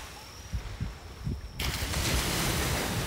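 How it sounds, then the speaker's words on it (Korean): Ocean waves wash onto the shore at night in Jeju, starting with low thumps and soft rushes, then swelling into a loud, steady surf roar mixed with wind buffeting the microphone. "저런 파도 소리 좋아."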